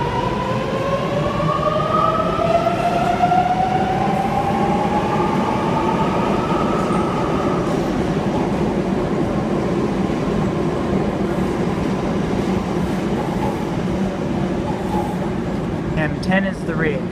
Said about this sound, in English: An M set departing platform 1.